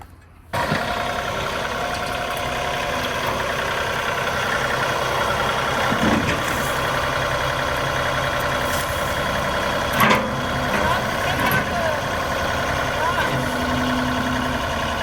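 A tractor engine idles and runs steadily at a farm where tulips are being planted, a close, constant mid-pitched rumble throughout, with people talking over it.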